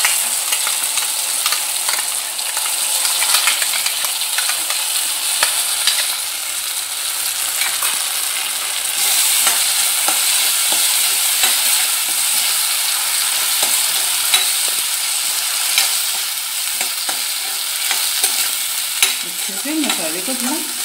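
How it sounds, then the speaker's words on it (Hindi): Masala paste for tomato sambar fries in hot oil while being stirred, a loud steady sizzle running throughout with scattered scraping strokes of the spoon, close up and without speech. "मसाले को थोड़ा भून लेंगे।"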